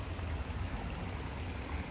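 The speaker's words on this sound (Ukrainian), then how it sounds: "протікає такий струмочок." A small stream flows through Stryi Park in Lviv, making a soft, steady, even trickling hiss with no breaks, heard faintly and alone.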